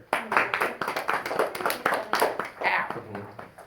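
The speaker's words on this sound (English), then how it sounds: "Let's clap for her." Students in a piano class clap for a classmate, a close, roughly rhythmic run of hand claps with voices mixed in beneath.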